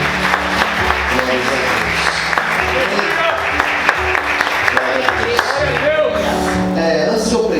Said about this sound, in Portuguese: Aplauda Jesus com alegria.